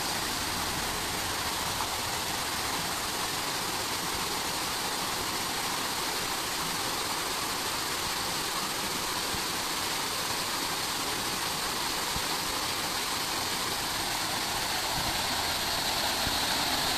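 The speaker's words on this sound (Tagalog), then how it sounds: "Waterfalls din dito." Steady, broadband rush of a waterfall in the Ginger Garden of a botanic garden, a continuous even roar of falling water at constant loudness with no talking.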